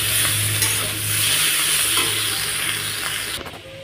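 Masala for a fish curry is stirred in a hot pan, making a dense, steady sizzle with soft scraping that fades off near the end.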